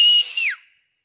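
A single short whistle from a person, bright and steady before sliding downward and cutting off, heard alone and close in a quiet setting.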